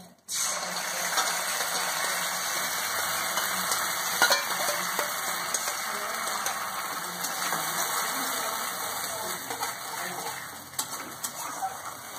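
Tempering of hot spices hitting oil for chicken 65 gives a steady, loud, bright sizzle and crackle that fills the whole stretch, with a few sharper spits and pops and no talking.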